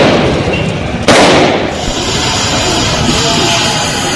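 An explosion on a street in Uttar Pradesh with police nearby: one sharp, loud blast erupts out of steady background noise, then fades into a lingering rushing decay.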